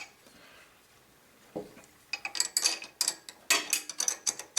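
Metal ratcheting clicks from a nut being tightened on a cable bolt of a hydraulic pull wagon kit, a fast rhythmic series of close, bright clacks after a quieter start.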